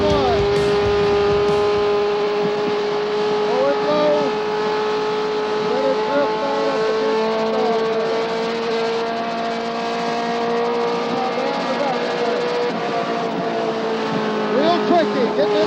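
A race car engine runs continuously on the track at Darlington Raceway, holding a loud, steady drone with rising and falling pitch sweeps as the car works through the corners, under a voice talking.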